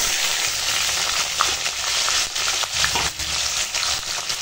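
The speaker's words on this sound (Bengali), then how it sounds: "পেঁয়াজটা একটু ভেজে নেব" Chopped onion frying in hot oil with bay leaf, dried red chilli and five-spice tempering, a loud steady sizzle with occasional scraping stirs, close and alone without talk.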